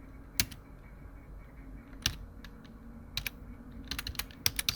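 Computer keyboard typing while Twig template code is written, in short irregular bursts of crisp clicks separated by pauses, fairly close and moderately loud, with no talking.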